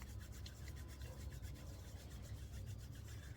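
Palms rubbing briskly together in a quiet room during a closing breathing exercise, a steady continuous dry swishing friction that holds level throughout, with no talking.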